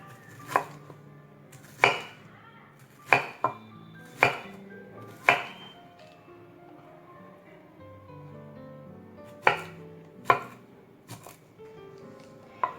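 Knife chopping banana flower on a cutting board: a series of sharp, separate chops in uneven bursts, loud and close, with quieter gaps between strokes and no talking.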